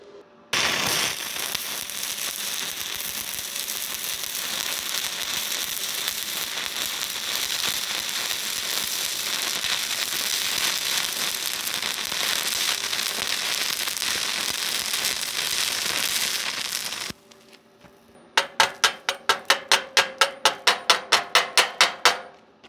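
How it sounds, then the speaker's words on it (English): A Simder SD-4050 Pro stick welder running a bead on 1/8 inch steel gives a loud, steady crackling hiss for about sixteen seconds and then stops. A quick run of sharp, evenly spaced taps follows near the end. "It welded this 1/8 inch well."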